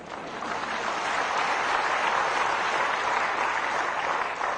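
An audience claps at a Himachal Pradesh public event during an official's speech, a dense, even wash of applause heard from a distance that swells slightly and holds steady.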